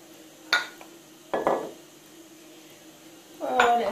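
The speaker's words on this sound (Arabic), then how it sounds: "نبدا نخلط حتى تجمع ليا السفوف ديالي ولا سله ولا زميطه." Sfouf ingredients are mixed in a bowl, producing a few scattered scrapes and clinks of a utensil against the bowl, with quiet gaps between them and a low steady background hum.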